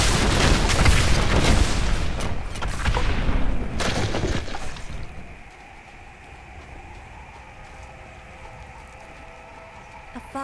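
Explosions in Diablo 3, a cluster of loud booming blasts in the opening seconds that fade out into a quieter ambient game tone with a faint voice.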